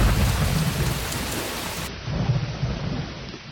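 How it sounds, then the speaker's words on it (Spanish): Heavy rain pours steadily while deep thunder rumbles and rolls through it, loud and close, used as a storm sound effect in a spoken horror miniseries, with no voices present. "Desde ese momento empezó una fuerte lluvia."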